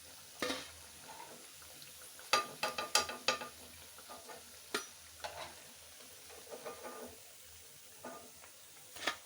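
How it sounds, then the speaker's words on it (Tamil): Food fries quietly in a pan, a soft steady sizzle with scattered sharp clinks and scrapes as pieces are stirred and turned, heard close and alone without speech. "இப்போ பார்த்தீங்கன்னா இதெல்லாம் நல்லா ஃப்ரை ஆகிடுச்சு."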